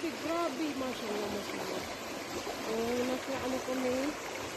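A river stream flows in a steady broadband rush, close and continuous, while a voice talks over it.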